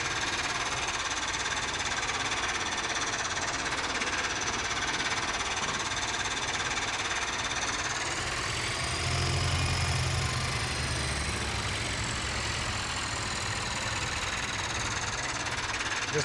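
A 1956 vintage tractor engine runs continuously with a steady, buzzy drone and rapid mechanical chatter, close and constant throughout, with no talk.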